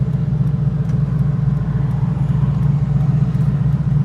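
A TVR Chimaera on the road gives off a deep, steady engine rumble heard from inside the car, loud and constant with no shifts in tone over the few seconds.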